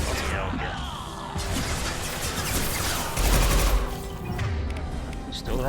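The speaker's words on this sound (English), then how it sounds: "Taking heavy fire." Mass Effect 2 combat roars with dense, loud bursts of gunfire and explosive crashes layered over one another, with a voice speaking in the middle of the din.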